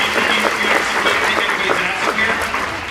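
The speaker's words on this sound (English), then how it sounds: "So, yeah, round of applause." A fan-event audience at a Daredevil cast panel gives a sustained round of applause, thick and continuous, with a few indistinct voices mixed into the clapping.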